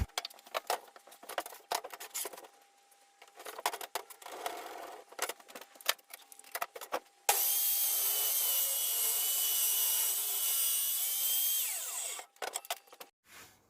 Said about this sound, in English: I'm going to take it over the table saw now, rip this down to size